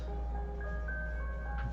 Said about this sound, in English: pardon the background noise of the ice cream truck.